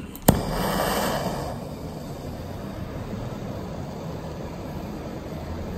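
A torch or heat gun roars steadily while heating a stuck grub screw on a KTM two-stroke TPI throttle body, loud and close after a sharp click at the start, then settling into a constant even hiss with no talk.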